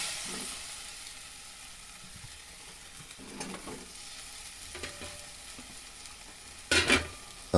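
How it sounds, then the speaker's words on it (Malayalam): Rambutan curry with peeled rambutans and added water being stirred in a pan, giving a soft steady simmering sizzle with scattered scraping stirs and a louder clatter of the spoon near the end, no talk. "നന്നായിട്ടൊന്ന് ഇളക്കി ഒന്ന് മിക്സ് ചെയ്ത് പിന്നെ അത് നന്നായിട്ട് വേവാനായിട്ടൊന്ന് വെയിറ്റ് ചെയ്യുക"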